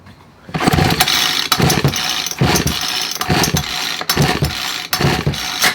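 A Ryobi S430 4-cycle string trimmer engine is pull-started repeatedly after a carburetor rebuild, choked and primed with fuel. Several loud, rhythmic rasping pulls of the recoil cord crank the engine, which does not catch.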